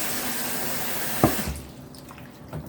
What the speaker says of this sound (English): So now you need to rinse.